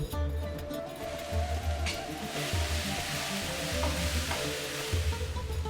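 Onion and tomatoes cook in a covered pan with a steady soft sizzle and bubbling. A low hum runs underneath and nobody speaks.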